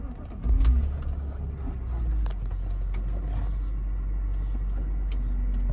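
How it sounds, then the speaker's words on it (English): A 2005 BMW X3 2.5i with its straight-six engine cranks and catches, then settles into a steady, smooth, low idle heard close by, with a faint background hum from the car's fan. "the star of this show is the BMW straight six engine. Let's start that car up and have a listen to it."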